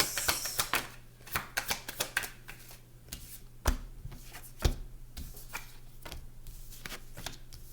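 Tarot cards are shuffled and riffled by hand in a series of crisp, close snapping bursts and soft slides, with a faint low hum underneath.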